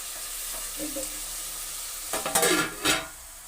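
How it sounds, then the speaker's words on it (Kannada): Semolina dry-roasts in a pan with dry scraping and stirring, and a few louder rasping bursts of a spatula pushing the grains around; no voices. "ಇವಾಗ ರವೆ ಹುರ್ಕೊಳ್ತಾ ಇದ್ದೀನಿ ಈ ಕಡೆ ಒಳಗೆ"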